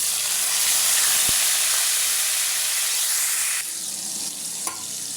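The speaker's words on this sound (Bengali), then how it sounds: "এখন দিয়ে দেব পেঁয়াজ।" Onions drop into hot oil, where a loud, continuous hissing sizzle fills the scene and softens slightly toward the end, with one or two quick clicks of a utensil.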